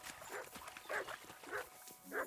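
A dog barks in the medieval video game Kingdom Come: Deliverance 2, four distinct barks spaced about half a second apart, moderately distant, with faint game ambience underneath.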